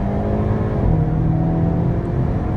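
Hyundai Kona N pulling hard under acceleration on a public road, a steady loud engine drone with rising harmonics heard from inside the cabin, continuous and without talk.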